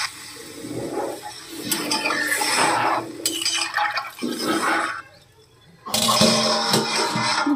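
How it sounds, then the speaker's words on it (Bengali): Water is poured into a cooking pot of spiced potato and green banana curry in bursts of gushing, splashing liquid separated by brief pauses, with light clinks of utensils. "এরপরে পরিমাণ মতো জল দিয়ে দেবো"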